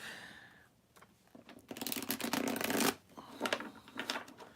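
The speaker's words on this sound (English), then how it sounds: "Alright, that was a good shuffle." A deck of reading cards is shuffled at a table, the crisp riffling bursts loud and near in two rapid flurries, with quieter shuffling between them and no speech.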